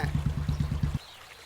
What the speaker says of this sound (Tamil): டேய் தண்ணி நிக்கிறதுக்குள்ள குளிடா.